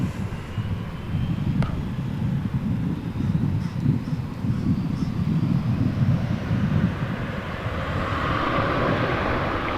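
An airliner departing DFW airport for Seattle, a broad low jet engine roar with wind rush, steady and fairly loud throughout, a faint rising tone growing toward the end.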